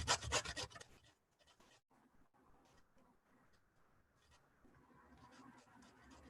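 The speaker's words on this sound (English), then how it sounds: "we're just going to go ahead and make really quickly some grated carrot to add in" A carrot is rubbed against a box grater in rasping strokes, louder at first and then continuing as softer, irregular scraping.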